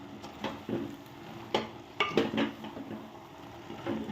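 A spoon scrapes and clinks against a pan in irregular strokes as cluster fig curry is stirred with masala, with a soft sizzle underneath, fairly quiet and close.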